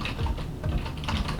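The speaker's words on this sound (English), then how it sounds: "I'm sitting here typing on this thing and keeping you up." Steady typing on a GX50 gaming membrane keyboard, a dense run of soft, muffled key presses heard close up and alone, with no talk.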